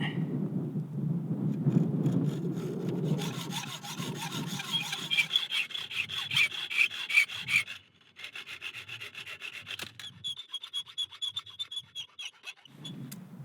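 A long metal bolt is cut down to size by hand outdoors in Sturt National Park, with steady, close, rhythmic rasping strokes that pause briefly partway through and then resume.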